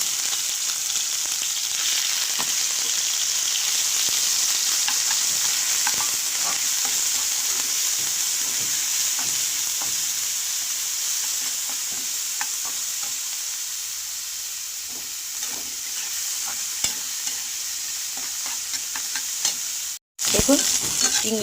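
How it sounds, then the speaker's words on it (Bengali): Small prawns coated in salt and turmeric fry in hot oil in a wok, making a continuous close sizzle with stirring scrapes for about twenty seconds before a brief cutoff near the end. "ছোটো চিংড়ি মাছগুলো বা ফুল চিংড়ি মাছগুলো কড়াইতে ভালো করে ভেজে দেখুন"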